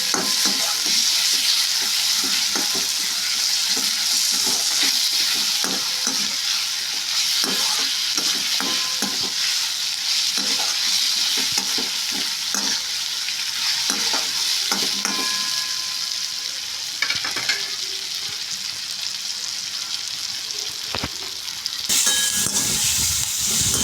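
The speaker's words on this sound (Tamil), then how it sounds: "தக்காளி, இந்த பச்சை மிளகாவையும் நல்லா வதக்கிறோம்." Tomato and green chili sautéing in a pan for a mango mor kuzhambu, a loud continuous sizzle close up with frequent spatula stirs and scrapes running throughout.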